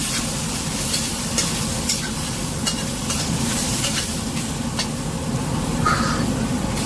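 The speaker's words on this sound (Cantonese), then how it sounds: "跟住同埋啲鴻喜菇一齊兜勻。" Shimeji mushrooms and ginger slices are stir-fried in a wok, giving a loud, steady sizzle with scraping stirring strokes and occasional clinks, close and continuous, no talking.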